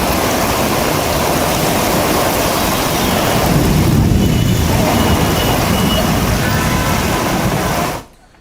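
Floodwater fills a road underpass where a vehicle is stuck, a loud, dense, continuous rush of water that holds steady for several seconds before cutting off abruptly.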